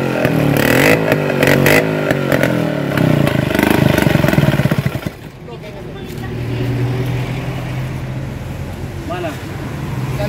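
Vespa scooter engine being test-revved, a loud buzzing two-stroke roar rising and falling in bursts for about five seconds, then settling to a steadier idle with background voices.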